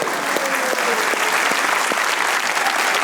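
An audience claps for the actress Durr-e-Fishan, a dense, steady round of applause filling the room at close range for about three seconds.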